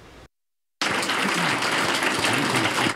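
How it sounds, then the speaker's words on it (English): A packed crowd at a Elyria school district meeting on new school buildings bursts into loud, dense applause after a brief silent gap, the clapping continuing steadily to the end. "there were groans and applause"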